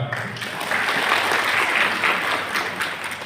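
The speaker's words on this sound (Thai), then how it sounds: "ขอบคุณและเสียงปรบมือครับ" A crowd at a public consultation hearing in a Thai subdistrict administrative office applauds steadily, a dense wash of clapping that stays even and moderately loud for several seconds.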